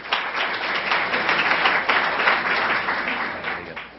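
Sustained applause from an audience for presenters at a tech conference session on building Facebook apps, dense steady clapping for about four seconds with no speech over it.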